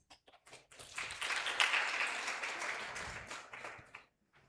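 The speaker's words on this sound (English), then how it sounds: "Please give him another round of applause." Audience applause at an international academic conference in Indonesia, a dense, steady wash of many hands clapping that swells after a brief start, holds for about three seconds and then fades out.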